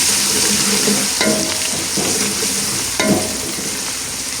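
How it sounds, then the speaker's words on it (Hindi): Garlic-ginger paste frying with golden onions in a pan, a steady loud sizzle broken by a few scraping stirs, with no talking. "इस तरफ लहसुन अदरक का पेस्ट है, 2 चम्मच भर के मैंने इसमें डाल देने हैं और इसको भी थोड़ा सा मैंने फ्राई कर लेना प्याज के साथ।"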